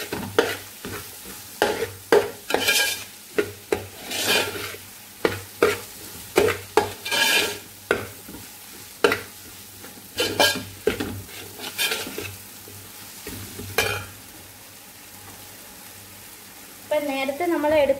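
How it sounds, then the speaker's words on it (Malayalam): Crushed ginger and garlic stirred in a hot pan for a Kerala-style curry, with repeated scraping strokes of a spoon against the pan in an uneven rhythm over a steady low sizzle, close up and with no talking. "ഇഞ്ചിയുടെയും വെളുത്തുള്ളിയുടെയൊക്കെ പച്ചക്കറി എന്ന് മാറുന്നത് വരെ നമുക്കിത് നന്നായിട്ടൊന്ന് ഇളക്കി"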